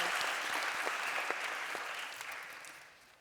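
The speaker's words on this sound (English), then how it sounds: "Yeah, that deserves a round of applause." A youth grantmaking gathering breaks into a round of applause, fairly soft and steady at first, then slowly fading toward the end.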